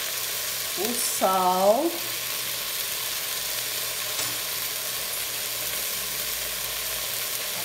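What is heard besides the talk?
beef sizzling as it is sautéed in a pan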